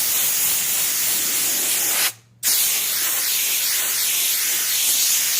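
Compressed air blasts dust off the carpet covering of a Peavey professional audio speaker. The loud, close, steady hiss stops briefly once partway through, then resumes, with no voices.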